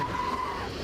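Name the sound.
truck braking and skidding, American Truck Simulator video game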